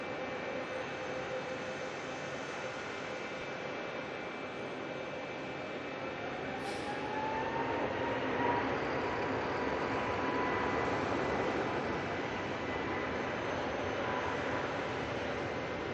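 Jetstar airliner lining up and taking off at Melbourne International Airport, heard as a steady distant jet engine roar that swells gradually toward the middle and holds, with no talk.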